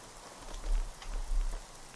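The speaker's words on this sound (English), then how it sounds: "Is it because of the rain?" Steady rain falls in Fallout: New Vegas, a soft continuous patter of drops on surfaces with slight swells, fairly faint and heard alone.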